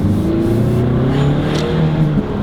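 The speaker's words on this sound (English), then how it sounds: "I'm revving it a bit" A Peugeot 508 GT fastback saloon with a 2-litre diesel engine revs steadily from inside the cabin, a continuous close engine drone with rising and falling harmonics and no talk over it.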